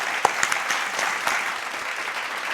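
A short burst of audience applause for a performer at a live poetry-style stage event in Patna, bright scattered clapping from a moderately sized crowd.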